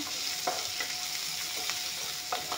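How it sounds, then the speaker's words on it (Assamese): Garlic, ginger and green chili sizzle steadily as they fry in a pan, with a few soft stirring scrapes breaking through the continuous crackle. "এইখিনি অলপমান ভালকৈ ভাজি ল'ম।"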